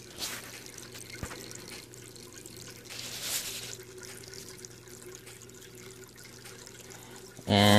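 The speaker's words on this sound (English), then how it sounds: "so it continuously pumps water down into the tank" Water from an aquaponics pump built from an aquarium flows steadily into the planter, a continuous close trickle and splash that runs throughout before a louder burst at the very end.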